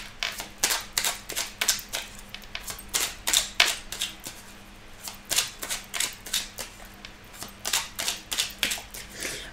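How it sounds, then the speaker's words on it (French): Tarot cards are shuffled close by in quick, soft flicking and riffling bursts that come in uneven clusters, with a faint steady hum underneath. "Alors, on va mélanger encore un petit peu."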